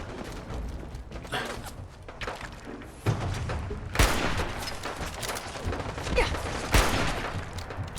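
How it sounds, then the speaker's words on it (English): Turrets in the video game Fallout 4 fire at super mutants in rapid bursts of gunfire, punctuated by thuds and mechanical clanks, loud and chaotic throughout. "The turrets are attacking the super mutants."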